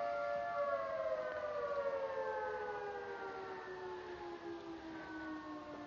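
An old civil defense siren sounding at six o'clock, a long steady wail with gently falling pitch, loud and continuous with no talk over it.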